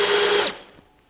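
A power drill drives a screw across the bottom of a garage wall rail during installation of a Doyle Air-N-Vac station; one loud, steady half-second whir that stops abruptly, leaving quiet room noise.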